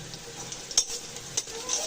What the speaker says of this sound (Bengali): পেঁয়াজ ভেজে নিচ্ছি, এর ভিতরে আলুটাও ভেজে নেব